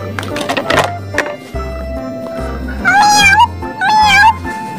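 Two drawn-out cat meows, close and fairly loud, following a stretch of cheerful background music with a steady beat and some voice-like sounds.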